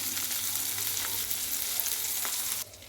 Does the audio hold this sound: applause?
no